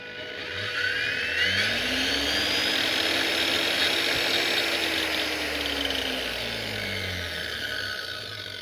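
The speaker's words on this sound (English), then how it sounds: "By simply turning a potentiometer, you can manually speed up the grinder and adjust the speed." Battery-converted angle grinder, originally a 120V tool, running through a PWM speed controller with MOSFETs: a steady loud motor whine that rises in pitch as it speeds up, holds, then slows toward the end, with no talking.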